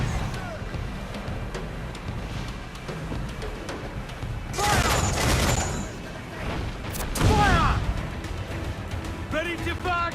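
Naval cannon fire in Assassin's Creed IV: Black Flag, heard as a couple of loud booming volleys at mid-clip over a steady din of battle and shouting voices.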